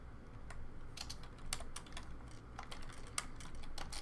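Quick, uneven bursts of keystrokes on a computer keyboard, close and fairly quiet, with short pauses between runs of typing and no talking.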